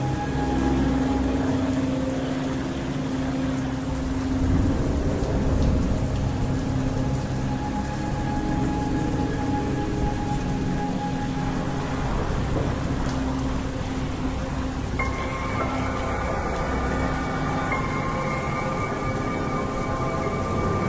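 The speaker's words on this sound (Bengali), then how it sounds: "ঝড় বৃষ্টির আওয়াজে কিছু শুনতে পারছে না" Heavy cartoon thunderstorm rain pours steadily as a dense, loud hiss throughout, with a sustained musical drone beneath; no distinct thunderclap stands out.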